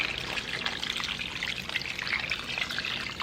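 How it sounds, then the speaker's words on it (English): Freshly boiled water is poured steadily into a pot while cooking cabrito, a continuous close splashing stream that runs the whole time without talk. "I've already gone ahead and boiled some water, and I'm going to go ahead and pour it in right now."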